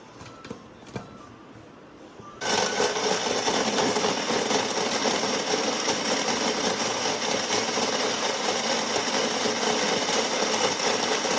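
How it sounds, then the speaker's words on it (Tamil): A blender whirs up from quiet and runs steadily at full speed, blending apple, dates and milk into a shake. A few faint clicks come first, then a loud, even motor whine. "பிளெண்ட் பண்ணுறதுக்கு நம்ம இந்த பிளேட் யூஸ் பண்ணிக்கலாம்"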